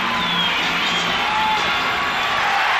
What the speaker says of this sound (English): And this crowd is certainly in it as Crawford gets set to throw it up.